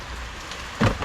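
Rain falls outside during a car battery-drain diagnosis, a steady wash of drops that swells into a louder burst near the end of the short stretch, with no talking.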